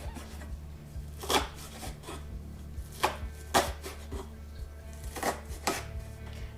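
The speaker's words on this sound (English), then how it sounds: "And then we're going to chop them up into a bit smaller of pieces." Fresh horsetail stems being chopped into smaller pieces with a knife on a board, a run of sharp, close chopping strikes in irregular bursts over a low steady hum.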